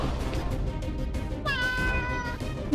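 A kitten gives a single clear, drawn-out meow close by, midway through, over a low background hum.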